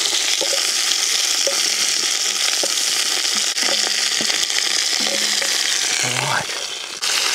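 Pumpkin wedges frying in an oily pan at an outdoor campsite, giving a loud, steady, close sizzle with scattered crackles and a few clinks of utensils throughout.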